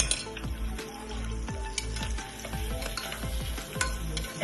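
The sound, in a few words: onions frying in oil for tempering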